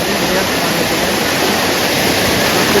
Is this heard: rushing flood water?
yes